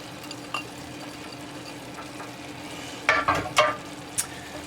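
Chopped celery sautéing in sausage grease in a soup pot, a low continuous sizzle broken by a cluster of sharp crackling bursts and stirring scrapes near the end, close and fairly clear.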